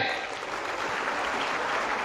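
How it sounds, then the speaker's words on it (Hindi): A crowd at an address honouring the chief minister claps in a brief, even burst, moderately loud, with a faint voice mixed into the sound. "तालियों की गगनभेदी गड़गड़ाहट से जोरदार अभिवादन करें"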